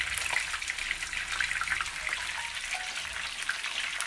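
Food sizzles and crackles steadily in a pan over a cooking fire, a continuous close hiss with no pauses.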